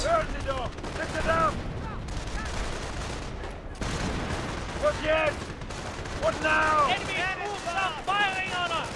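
MG42 machine gun firing in Company of Heroes 1, rattling bursts of automatic fire repeating amid battle noise, with a person talking throughout over the shooting.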